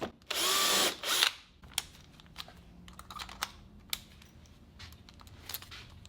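A power driver runs screws into a woodworking workpiece to fasten it from underneath, two loud sustained whirring bursts up close, then scattered small clicks and handling noises with no talk.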